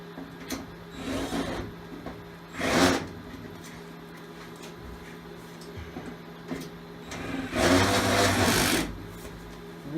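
Short whirring bursts of screws being driven in while installing an APC3000 UPS unit, with two louder motor runs between quieter mechanical clicks and handling, close up.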